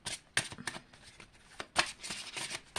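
Tarot cards shuffled and drawn by hand, heard as brisk riffling bursts and sharp flicks of card against card, close and fairly loud, with several clustered sweeps and no speech over them.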